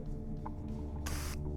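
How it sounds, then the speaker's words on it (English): A modified water fire extinguisher pressurised to about 80 PSI gives a short hissing spray burst, loud and close over a steady low hum, lasting a fraction of a second. "there you go, that is a nice spray."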